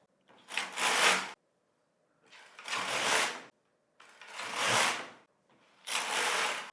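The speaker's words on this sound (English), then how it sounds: "I'm going to lay in my waste yarn and knit about 6 to 8 rows." A Singer Solo hand knitting machine carriage knitting rows of waste yarn, four separate whooshing, rattling passes about a second long each, with short silences between them, close and clear.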